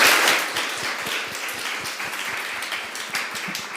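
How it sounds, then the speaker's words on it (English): Symposium audience giving a round of applause, a moderate crowd of individual claps heard fairly close, starting strong and then continuing at a steady, slightly thinner level. "A big round of applause."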